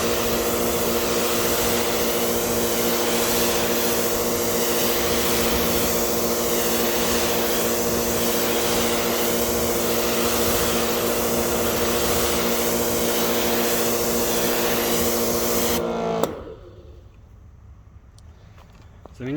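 A loud, steady hiss of a pressure sprayer spraying water onto a truck, running continuously with a motor hum underneath, then cutting off abruptly near the end, leaving quieter background noise.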